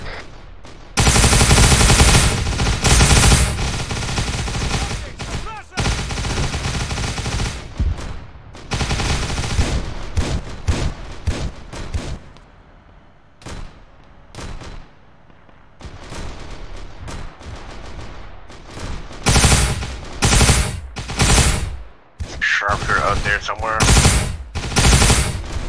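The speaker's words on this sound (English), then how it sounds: "That last burst of fire was good." Automatic gunfire in ARMA 3's Warhammer 40k mod, loud bursts of machine-gun fire in repeated volleys separated by short pauses, with heavy rumbling impacts and occasional talk in between.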